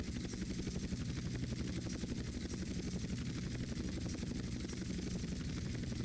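A helicopter in GTA San Andreas flies steadily, its rotor chopping in a fast even pulse over a low engine drone, quiet and constant with no talk.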